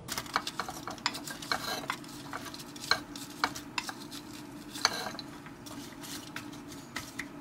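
Leeks and onion cooking in melted butter in a pan give a steady low sizzle, with frequent sharp clicks and scrapes of a utensil stirring against the pan throughout.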